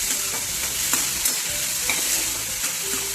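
Onion, capsicum and sweet corn sauté in a hot pan, a steady close sizzle with a spatula stirring and tapping at intervals.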